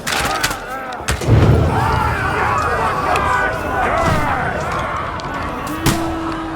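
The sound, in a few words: gunfire volley in video game Kingdom Come Deliverance 2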